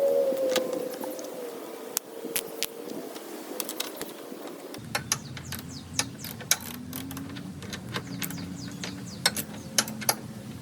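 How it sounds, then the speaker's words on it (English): A socket ratchet tightens a nut on a homemade racing mower build, producing rapid close clicking strokes in repeated bursts over a steady background hum, with no talk. "And then our nut. I'll just use the socket,"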